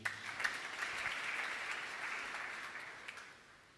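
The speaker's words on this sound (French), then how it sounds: "acclamez pour vous-même." A church congregation applauds during a French-language sermon, steady dense clapping from a crowd that slowly fades out over a few seconds.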